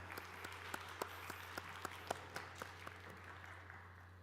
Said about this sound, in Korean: 우리 다시 한 번 더 큰 박수 부탁드립니다